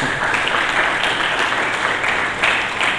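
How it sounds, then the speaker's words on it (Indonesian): An Indonesian church congregation breaks into loud, steady applause, a thick wash of many hands clapping at once with no speech on top. "Berikan tepuk tangan bagi Yesus Kristus."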